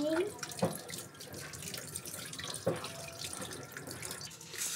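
Fish being rinsed under a running tap, with a steady splash of water into a sink, a couple of sharper knocks and clatters as the fish are handled, close and moderately loud throughout.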